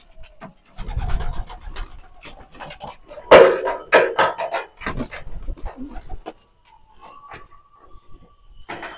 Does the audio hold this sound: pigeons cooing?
yes